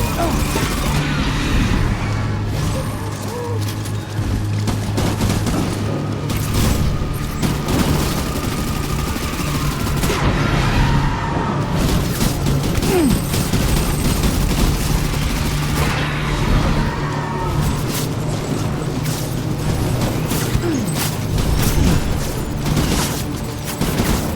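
Gunfire in the video game Death Stranding, a dense fusillade of shots and booms over a low rumbling hum, sustained and loud throughout, with scattered voices in the mix.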